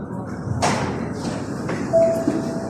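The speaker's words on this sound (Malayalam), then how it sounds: "ഒരു മെട്രോ ഇതിന് വരുന്നു" Riyadh Metro train arriving at a station, a steady rumbling hum with a brief sharp burst early on and a thin tonal whine near the end, no talk.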